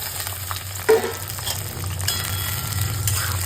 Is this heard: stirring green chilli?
yes